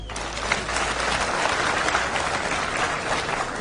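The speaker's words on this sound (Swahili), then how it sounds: "Mpigie makofi" A crowd at a political speech gives a dense, sustained round of applause, steady and fairly loud throughout, with no talk over it.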